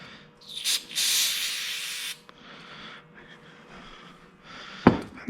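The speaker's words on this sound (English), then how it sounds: "So I'll take and spray these out like this." Short bursts of aerosol spray cleaner blasting out carburetor screens from a Carter AFB four-barrel carburetor during a rebuild teardown, a strong hiss near the start, then softer spraying and a sharp knock near the end.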